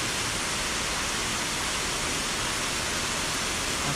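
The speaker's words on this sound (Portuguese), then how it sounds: "Olha o barulho do que eu acordei. Que chuva! Que chuva!" Heavy rain pours down in a constant, dense, full hiss with no pauses, loud and enveloping throughout.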